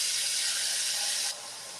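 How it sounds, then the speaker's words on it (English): Water is poured into a cooking pan with a little butter while oven-baked chicken is prepared, a bright, steady hiss of splashing liquid that cuts off abruptly, close and alone. "And just some water."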